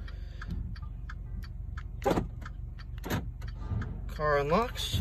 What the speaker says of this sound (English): Car unlocks.